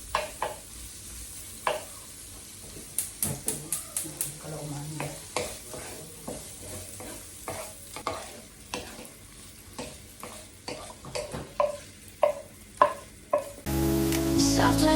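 Olive oil frying food in a pan for fried rice, with repeated scraping and stirring clatters over a steady sizzle; music comes in at the very end.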